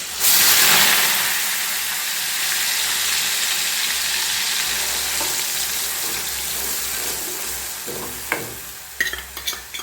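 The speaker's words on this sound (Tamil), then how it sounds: "ரெண்டு வெங்காயம் அரைச்சிருக்கேன் நான். சின்ன வெங்காயம் தான். இது நல்லா பச்சை வாடை போட்டு நல்லா வதக்கிக்கலாம்." Ground shallot paste sautéing in a pan, a loud continuous sizzle and hiss up close, with a few sharp scraping stirs near the end and no voices.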